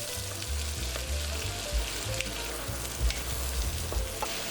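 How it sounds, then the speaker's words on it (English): Veggies and whole dried chilies stir-fry in oil over high heat, a dense steady sizzle with low scraping tosses of the pan repeating throughout, close and unbroken by talk. "Toss for about 2 to 3 minutes on high heat."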